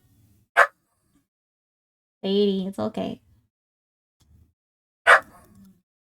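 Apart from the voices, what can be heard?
dog barking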